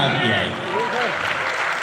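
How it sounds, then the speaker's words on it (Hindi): Applause from an audience at a Hindi poetry recital during an anniversary program, a short, dense burst of clapping with a voice audible over it. "हमें मालूम थी तालियां आपकी आएगी।"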